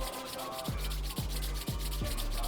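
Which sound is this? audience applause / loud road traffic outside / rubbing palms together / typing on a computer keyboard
rubbing palms together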